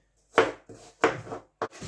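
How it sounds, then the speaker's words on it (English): A knife chops onion, garlic and apple on a board for green tomato chutney, giving four distinct close knocks in an uneven rhythm, each with a short fading tail. "we've finished chopping up the onion, garlic and apple"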